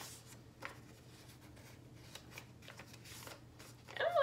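Paper folded over by hand for a binding spell: soft, close crinkling and rustling strokes, quiet and intermittent, building to a louder crumple at the very end, with no talking.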